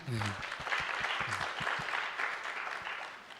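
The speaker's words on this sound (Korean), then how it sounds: "우리 이 자리를 빌어서 우리 환영의 박수로" A church congregation gives welcoming applause, a steady crowd clapping that carries on through the clip while a voice speaks briefly over its start.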